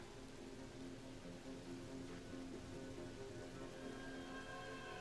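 Rain falls in the video game Spate, amid a fog-covered island setting, as a soft, even hiss of steady rainfall that stays constant throughout, faint and with no voices.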